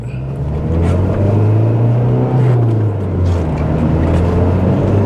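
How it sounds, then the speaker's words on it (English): An MG ZS TD 115 car engine drones loudly and steadily from inside the cabin on twisty country roads, its low hum swelling slightly as the revs climb, with no talking. "Right, get some revs up."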